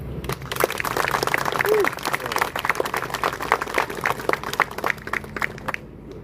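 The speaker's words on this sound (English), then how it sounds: "let's just take a second and give them some applause, please." Applause for German allies at a joint military award ceremony: a scattered crowd claps steadily for several seconds at moderate loudness, with some voices underneath, before tapering off near the end.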